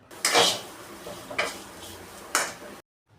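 A spoon scrapes and clinks in a pan while a spice masala mixture with garam masala and cumin powder is stirred, three distinct metallic scrapes spaced about a second apart, close up and alone.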